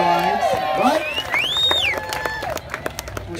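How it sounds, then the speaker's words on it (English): A crowd at a mud volleyball tournament check presentation claps and cheers for the Wi-Fi sponsor, with whoops and shouts rising over chatter and a spoken voice. "that got a bigger applause than everything else"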